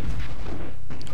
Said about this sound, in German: Geile Explosion.